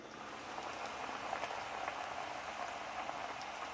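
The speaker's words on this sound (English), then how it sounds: "are you guys ready to look at the potatoes while they fry?" Stuffed potatoes fry in hot oil, giving a steady, close, even sizzling hiss with fine bubbling crackle throughout and no talking.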